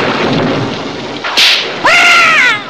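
Cartoon thunderstorm in a Smurfs episode: a sharp crack of thunder bursts over steady rain-like hiss, followed by a second loud rumbling strike with whistling, ringing tones.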